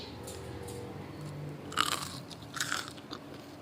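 Crispy homemade fried garlic is bitten up close, giving two sharp crunches about a second apart, with softer chewing around them in a quiet room.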